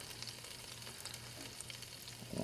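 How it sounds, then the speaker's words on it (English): Steady crackling sizzle of a New York strip steak cooking in a Ninja Foodi air fryer, continuous and close, with a faint low hum and a brief clatter at the end. "Wow, that's sizzling."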